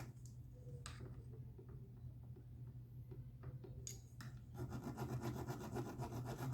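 Metal fret filing and crowning on an Ibanez Mikro guitar: steady rasping strokes of a file on fret wire, close and fairly quiet at first, then a denser, louder scraping run in the final seconds over a low background hum.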